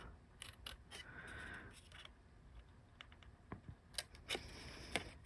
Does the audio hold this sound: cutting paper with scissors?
yes